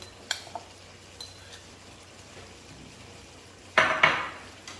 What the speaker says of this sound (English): Now I'm gonna add onion.